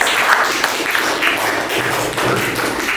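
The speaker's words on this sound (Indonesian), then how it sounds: "Tepuk tangan sekali lagi" Children in a school lesson clap together. The close, continuous patter of many hands is dense and uneven, with no voices over it.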